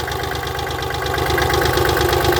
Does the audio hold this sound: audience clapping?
no